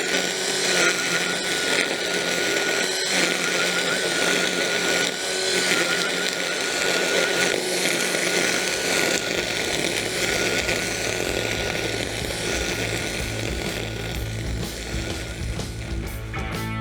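A Cramer Optimus TB20L cordless brushcutter runs at speed setting 3, a loud, steady high-pitched electric whine that holds unbroken and rises slightly in pitch toward the end, with no talking.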